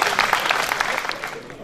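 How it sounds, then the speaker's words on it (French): Short burst of clapping from a small group at a fencing club gathering in Lunel, applauding fellow club presidents; quick, fairly close claps of moderate loudness. "Vous pouvez applaudir les autres présidents du club."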